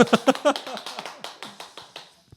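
A church congregation at Sunday worship claps to welcome the Sunday-school children coming forward, a run of sharp, fairly even claps that gradually weaken and fade out.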